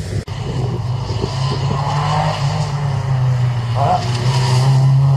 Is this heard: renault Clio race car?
yes